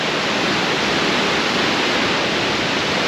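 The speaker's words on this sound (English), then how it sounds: "Waterfall." England's tallest unbroken waterfall, a loud constant wash of falling water, dense and unchanging throughout, with no voices.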